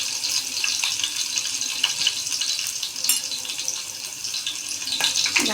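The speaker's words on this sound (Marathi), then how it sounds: "मिरची थोडी आपण जरा फ्राय होऊन देऊ" Green chilies frying in hot oil for a dahi tadka, a close, loud, continuous crackling sizzle with scattered sharp spatters and pops throughout, no talking.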